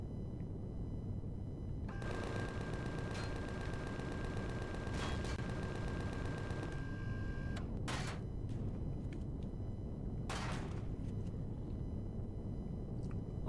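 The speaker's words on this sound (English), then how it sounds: "Still got a lot of stuff shooting at me." Video game gunfire under a steady dense noise bed, with a long rapid burst of repeated shots followed by a few separate sharp blasts, moderately loud and with no talking.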